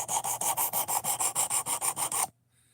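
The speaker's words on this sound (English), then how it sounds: "So we're making the bevel a bit larger and reprofiling it." Rhythmic rasping strokes as the bevel of a Jin Knives Chubbee knife is reprofiled on a sharpening surface, about a dozen even back-and-forth passes up close, then silence.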